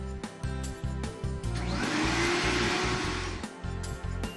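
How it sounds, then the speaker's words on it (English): A vacuum cleaner whirs up to a loud, steady roar and then winds down, with rhythmic thumping beats playing underneath throughout. "That's a vacuum cleaner."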